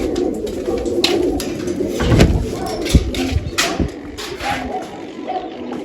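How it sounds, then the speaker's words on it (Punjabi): Pigeons coo and flutter close by as young birds are let go, with low cooing mixed with sharp wing claps and handling knocks over several seconds. "ਆਪਾਂ ਛੱਡਾਂਗੇ ਆ ਕਬੂਤਰ"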